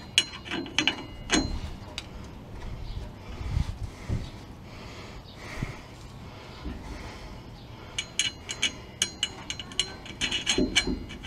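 A nut is being threaded and tightened on a Ford F150 rear shock absorber, giving intermittent close metallic ratcheting and clinking in short bursts amid handling noises and quiet breaths.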